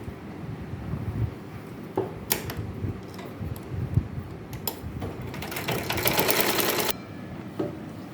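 A sewing machine stitches the pleated yoke of a nightie, its motor whirring in short bursts with rapid ticking needle strokes, rising into one longer louder run near the end, close and without talk.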